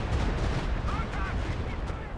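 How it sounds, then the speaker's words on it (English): Stuka barrage artillery in Company of Heroes 2 rumbles as a dense, continuous low roar of overlapping explosions, loud and unbroken, with faint voices buried in the mix. "Another Stuka barrage in mid."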